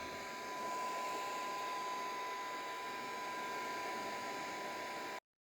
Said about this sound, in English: I'd like to show you how you can heat gun polyester organza.